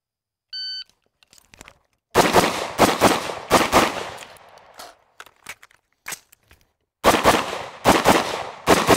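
Rifle shots fired outdoors in an El Prez shooting drill, loud sharp cracks in rapid bursts of several shots with brief pauses between, preceded by an electronic start beep on the shot timer.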